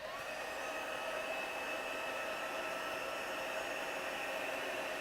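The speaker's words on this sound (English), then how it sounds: "I'm going to emboss those." Heat embossing tool blowing hot air over a stamped card, a steady whirring hum with a constant airy rush, held evenly at moderate volume for the whole stretch, no voices.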